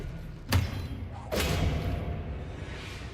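A spell cast in the Hogwarts Legacy video game: two sharp whooshing thuds about a second apart, each leaving a lingering rumble, loud and close, with no talking.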